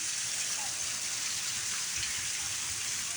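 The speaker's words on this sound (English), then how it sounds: "Doesn't seem like the rain is letting up anytime soon." Heavy rain from a thunderstorm pours down in a dense, steady hiss that stays loud and unbroken throughout, with no voices.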